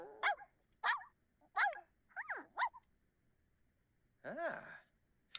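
Doug the dog in The Sims 4 lets out a series of short, close barks and yips with a whimpering, sighing tone, several quick bursts followed by a longer drawn-out howl-like bark.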